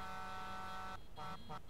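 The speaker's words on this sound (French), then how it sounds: "qui arrête pas de klaxonner pour m'empêcher de faire le début de vidéo" A car horn in the Farming Simulator video game honks in one long steady blast, then breaks into two shorter toots, loud and close with no talk over it.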